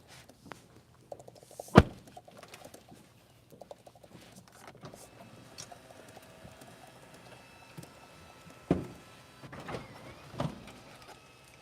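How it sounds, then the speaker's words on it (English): Power sunroof on a 2023 Kia EV6 GT-Line opening from inside the cabin, a low motor whir with a couple of clunks and thumps as the panel slides back, near and moderately quiet. "So I'm just opening up the sunroof."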